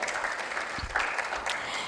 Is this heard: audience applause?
yes